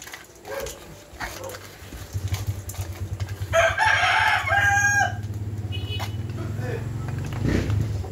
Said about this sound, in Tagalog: Pakainin na natin yung manok natin